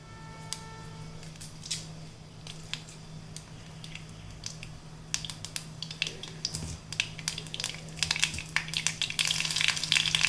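Mustard seeds, cumin and dried red chillies spluttering in hot oil for a sambar tempering, a close steady sizzle with sharp pops and crackles that grow denser and louder toward the end.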